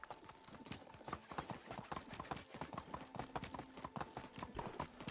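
Horse hooves clip-clop at a steady walking rhythm in the medieval survival game Medieval Dynasty, a dense run of sharp hoof strikes over a constant ambient bed, fairly close and moderately loud.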